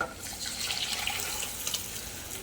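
Tamarind extract mixed with chili powder being poured into a pan for garlic-pepper kuzhambu, a faint, continuous watery splashing pour with no talking.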